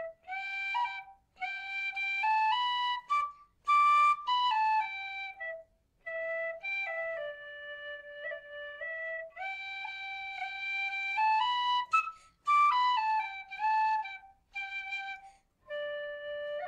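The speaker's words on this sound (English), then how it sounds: "So grab a C whistle for the cover, a D whistle for the tutorial" A C tin whistle plays a tune solo, with clear, bright sustained notes and quick ornamented runs in a flowing phrased melody, close and steady with short breath gaps.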